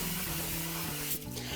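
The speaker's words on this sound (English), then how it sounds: "I'm gonna spray the basket with a little bit of oil." Oil sprayed onto an air fryer basket in a home kitchen, a soft steady hiss of mist lasting over a second, close and quiet, with no talking.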